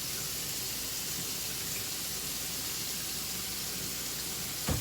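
Kitchen tap water runs steadily in a sink as a dish is rinsed under the faucet, a constant hissing splash close by that holds evenly and ends with a brief knock, with no speech.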